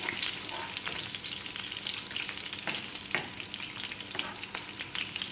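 Chicken pieces for Dragon Chicken fry in a pan with a busy, crackling sizzle, broken by repeated sharp scrapes and knocks as they are stirred and turned, close up and with no talking.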